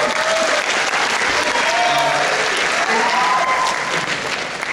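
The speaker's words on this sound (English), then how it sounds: "Give her a round of applause." An audience at an event honoring a young umpire breaks into sustained applause, loud and dense clapping filling the room with occasional cheers on top.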